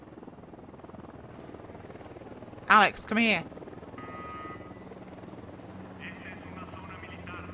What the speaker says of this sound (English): Don't get spotted by the helicopter.